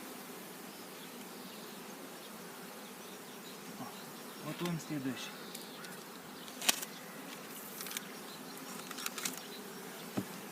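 Honeybees buzz in a continuous dense hum while nucleus colonies are being hived, with scattered clicks and knocks of hive handling and a brief spoken phrase.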